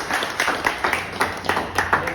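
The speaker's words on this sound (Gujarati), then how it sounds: "દેવાભાઈ માટે જોરદાર તાળી થઈ જાય." An audience breaks into applause for a speaker at a Gujarati RCM business meeting, with a brief burst of hand clapping from a small crowd in a room.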